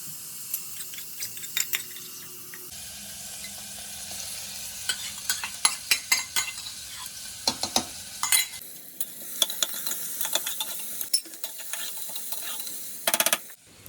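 Onion and ginger-garlic paste fry in a pan for moochi dal khichdi, a steady sizzle with frequent scraping stirs and spatula clicks, busier in bursts toward the end; no one talks.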